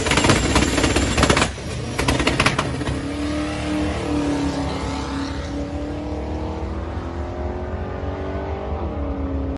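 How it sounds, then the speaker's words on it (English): A turbocharged drag car sits on the trans brake holding its two-step launch control, bouncing hard and popping at high boost, then settling into a steady, loud, rising drone with a final shift in tone. "Listen to the 2-step. Seriously, listen to it. The thing is just losing its mind."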